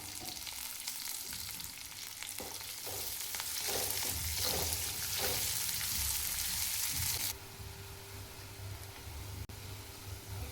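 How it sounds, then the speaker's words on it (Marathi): Onion frying in hot oil in a kadhai, a loud, close hiss of sizzling with stirring clatters and scraping midway, then settling into a quieter, even fry for the final few seconds. "तेल गरम झाले, कांदा टाकायचा आहे. कांदा भाजून घ्यायचा आहे."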